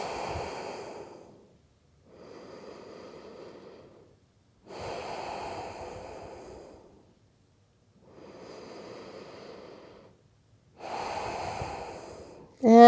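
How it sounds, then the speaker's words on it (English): Slow breathing in and out through the nose during a floor-based sandbag workout, with close airy inhales and exhales alternating in a steady rhythm and quiet pauses between them. "breathing in through the nose, out through the nose"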